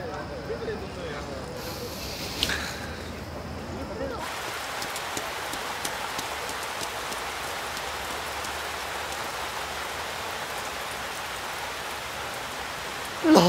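Steady rain pours down in a continuous even hiss, with a brief voice near the start before the downpour fills the scene alone.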